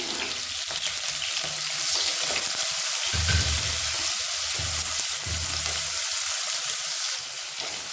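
Sliced onions and green chillies fry in hot oil in a pan for tomato-free masala rice, a continuous close sizzle broken by occasional scraping and stirring sounds.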